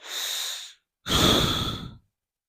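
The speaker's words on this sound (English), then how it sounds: "He lets out these big exhales, like he's all stressed out." Pet letting out two big breathy exhales, a short puff then a longer, fuller sigh after a brief pause, close and fairly loud with no talking.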